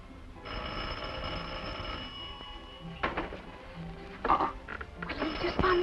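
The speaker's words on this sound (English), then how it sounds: "just phone ringing all evening, disturb us" An old telephone bell rings in bursts in a 1950 film scene, a bright metallic trill that stops and starts, with voices and room sounds between the rings.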